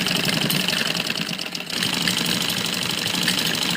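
A sewing machine stitching salwar fabric: a continuous loud, fast mechanical whir with a brief dip near the middle before running on steadily, with no talking.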